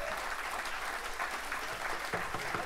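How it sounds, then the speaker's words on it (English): Steady applause from a crowd, a continuous wash of clapping with a few louder individual claps standing out near the end. "a round of applause, please, for Jerry Logue on the sound and production"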